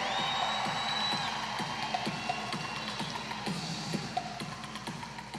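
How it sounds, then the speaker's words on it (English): A rodeo crowd in an arena gives a rider a long wash of applause and cheering, steady and fairly distant, with scattered sharper claps and whistles throughout. "You can give him a hand clap before we get it."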